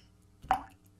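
A single water drop lands with a short, close plop, clear and isolated against near silence.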